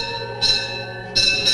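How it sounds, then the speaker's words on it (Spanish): A convent bell rung by a cloistered nun as her personal call signal gives two clear metallic strikes, each leaving a bright, sustained ringing tone that lingers and decays, close and loud with no voices. "tras el toque de campana, con ese sonido tan peculiar y tan particular"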